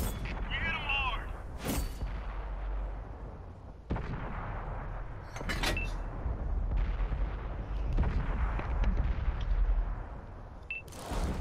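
Heavy tank cannon shots boom in a video game, a few loud blasts spread across the stretch over a constant rumble of in-game engine and battle noise.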